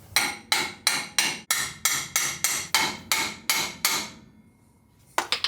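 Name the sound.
hammering an engine into a 1955 Ford F100 frame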